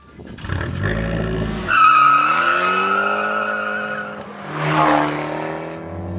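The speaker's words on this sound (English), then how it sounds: "that ferocious sounding exhaust is no accident either" Fiat 500 Abarth Cabrio exhaust while driving, a loud, raspy engine note rising through revs, dipping at a shift, then climbing again with a strong snarl close to the listener.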